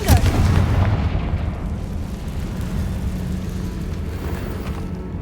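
A Confringo fire spell explosion in Hogwarts Legacy goes off with a loud booming burst at the start, then a rumbling fiery tail that fades slowly.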